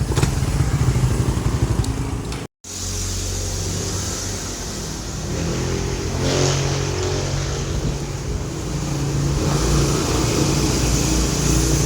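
Motorcycle engine running steadily at close range, loud and continuous with a gritty rumble, a brief cut partway through and slight swells in revs.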